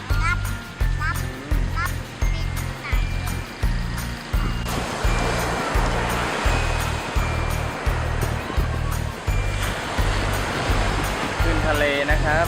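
Strong sea surf rolls and crashes continuously at Bang Saen beach in Thailand, a loud, steady wash of breaking waves, with children's voices and talk layered over it.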